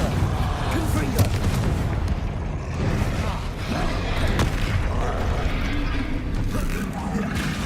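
A Confringo blasting-curse explosion in Hogwarts Legacy, heard amid a dense, chaotic spell battle as repeated booms and crackling bursts with a steady roar and shouted incantations throughout.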